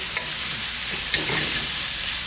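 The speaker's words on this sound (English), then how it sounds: "So I'm just going to give them a quick stir." Onions caramelizing in a pan for a Kerala-style egg curry get a quick stir, a steady sizzle with a couple of soft scraping strokes, close and continuous with no talking.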